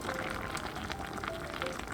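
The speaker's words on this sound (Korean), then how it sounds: "썰어둔 대파, 고추 넣고 푹 끓여줍니다." Mackerel and kimchi stew with sliced green onion and chili simmers in a covered pot, giving a steady, soft bubbling hiss with faint pops throughout and no voices.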